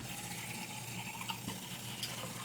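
Water runs steadily from a tap, rinsing out a container in a kitchen after nut milk preparation, a continuous close splashing gush with no talking.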